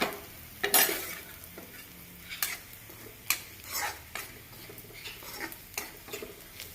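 Masala spices and curry leaves frying in a pan, a quiet sizzle broken by irregular scraping stirs and clinks of a utensil against the pan, close up with no talking.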